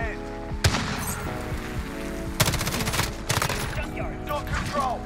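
Rapid automatic fire from an M13 rifle in the Modern Warfare video game, several bursts of dense crackling shots at close range, with game sounds and chatter around them.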